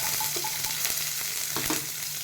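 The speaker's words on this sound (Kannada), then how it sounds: "ಈರುಳ್ಳಿ ಹಾಕ್ತಿದ್ದೇನೆ." Onion frying in hot coconut oil with mustard seeds, garlic and Byadgi chillies, a loud continuous sizzle with stirring scrapes, close and without talk.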